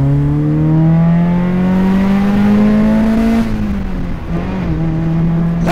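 Engine of a 1980s Toyota AE86 Trueno with its 1600 four-cylinder, revving steadily and rising in pitch, then easing off and settling into a lower drone, loud and close.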